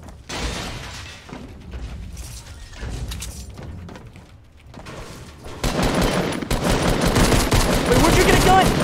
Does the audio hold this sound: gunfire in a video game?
yes